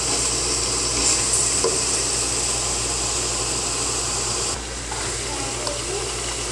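Chicken with tomatoes and ginger garlic paste sizzles steadily in a pot for chicken pulao, with a close, continuous frying hiss and occasional stirring scrapes throughout.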